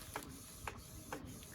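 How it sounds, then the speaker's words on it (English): Inkjet printer printing hair bow fabric, quiet mechanical whirring with three evenly spaced print-head passes, each a brief brighter swish, over a low steady hum. "I absolutely love printing my own fabric."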